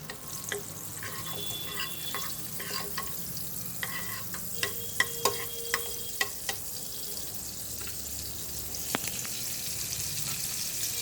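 Tomato paste fries in butter in a pan, a low continuous sizzle broken by scraping stirs and clinks of a utensil against the pan, close and with no voices.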